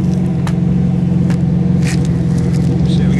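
A Megasquirt-injected 3.1L V6 fitted in a 1973 MGB GT runs close by with a steady, loud, low droning hum and slight surges in pitch, with brief clicks over the top and no talk.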